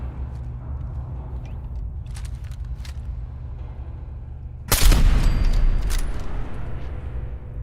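Rifle gunfire in Fallout 4, a sharp loud burst of shots and blasts breaking in partway through over a steady low game rumble, then ringing and settling into continued noise.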